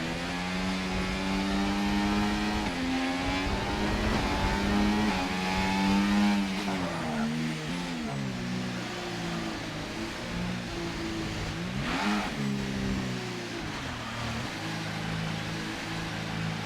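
An F1 car engine in the F1 2024 video game revs and accelerates through gear changes, a high whining roar that climbs, drops and climbs again at a steady moderate level.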